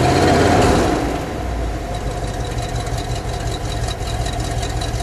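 A 1966 Buick Wildcat GS Gran Sport convertible's V8 engine gives a brief, loud rev in the first second, then settles back into a low, steady rumbling idle, heard close with no voices.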